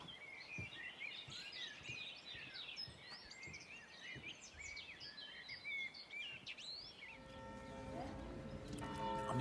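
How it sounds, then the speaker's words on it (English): Birds sing in an isolated Italian valley, many bright chirps and trills overlapping at moderate distance, with a steadier hum rising in the last seconds. "Listen to the birds."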